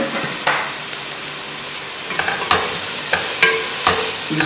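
Finely chopped green chillies are stirred in a frying pan over a soft background sizzle, with a series of sharp scraping strokes of the spoon against the pan, loud and close, coming at uneven intervals.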